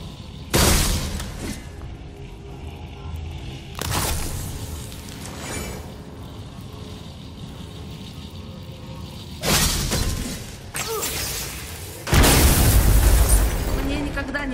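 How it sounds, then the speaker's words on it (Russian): Heavy in-game explosions from blowing things up in God of War, several deep booming bursts with crackling debris spaced across the stretch, the last one loudest and longest, over a continuous game background. "Мне никогда не надоест взрывать штуки"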